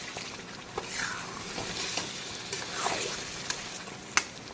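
Papaya pieces sautéing in spice masala in a wok, a soft steady sizzle with faint scraping stirs and a few light clicks, fairly quiet and close.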